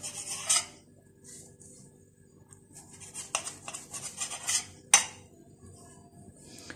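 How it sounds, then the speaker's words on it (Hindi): A knife trims the crusts off bread slices on a hard surface, giving soft rasping strokes broken by sharp clicks and taps as the blade meets the board, close and fairly quiet. "स्लाइस के हम यहां से किनारे सारे काट लेंगे इसके चारों तरफ से"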